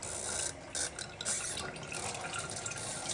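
Cooling water runs steadily through the condenser of a homemade moonshine still, a continuous close trickling and dripping flow with no talk over it.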